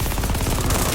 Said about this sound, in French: Finis cette mitrailleuse.